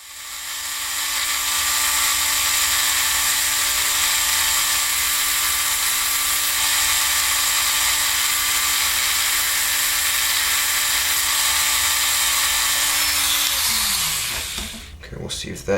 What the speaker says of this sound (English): they don't fit, so I'm going to have to sand them down.